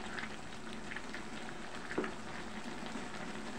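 Sautéed bottle gourd (upo) stirred in a pan, a steady soft sizzle with faint scraping and one brief utensil clink partway through, heard alone and close.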